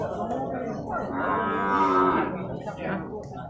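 A buffalo at the Purwakarta livestock market in Indonesia gives a loud, close, drawn-out low moo lasting several seconds, with no talking over it.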